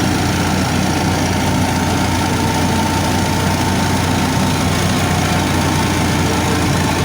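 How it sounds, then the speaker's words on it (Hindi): A Massey Ferguson 375 tractor drives a straw-making machine, giving a loud, continuous engine drone and mechanical roar that holds steady throughout with no talking. "बेहतरीन तरीका तूड़ी बनाने का। देखिए दूर कैसे उड़ रही है मशीन से।"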